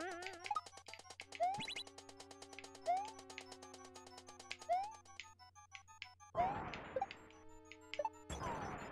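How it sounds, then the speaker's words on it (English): A pet cat gives a few short, faint meows in the background, mixed with bright, bouncy game music and occasional thumps. "He just did a cute little meow in the background."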